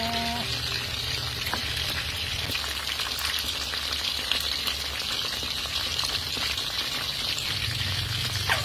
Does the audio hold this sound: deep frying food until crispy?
yes